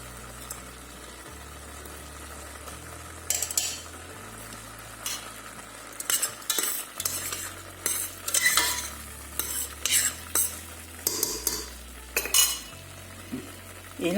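Peppers fry in oil in a pan, salted after the water has cooked off, with a continuous sizzle broken by repeated bursts of scraping and clattering as a utensil stirs them, plus a low rhythmic hum underneath.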